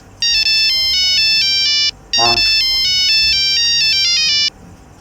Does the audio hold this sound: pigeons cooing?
no